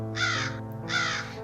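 Eagles crying as an audiobook sound effect: two harsh, drawn-out raspy calls in quick succession, loud and close, with a steady low hum underneath and no talking.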